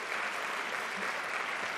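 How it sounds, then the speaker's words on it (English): An audience at a leadership prize celebration applauds honorees, a steady wash of clapping that holds at an even, moderate level throughout with no pauses. "Let's give them one more round of applause"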